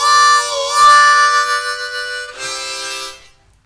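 Harmonica imitating a train whistle with a double stop, two wailing sustained blasts, the first long and bending, the second shorter, loud and close, fading out at the end.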